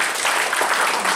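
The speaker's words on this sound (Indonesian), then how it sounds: "Boleh tepuk tangan buat Tuhan Yesus." A church congregation claps together, a brief, dense burst of applause at moderate volume with no voices over it.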